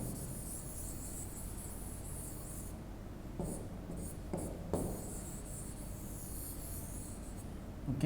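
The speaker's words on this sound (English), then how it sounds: "Okay, so I am going to erase everything." A classroom board is erased with a few soft rubbing and scraping strokes, faint against a steady background hum, with no speech.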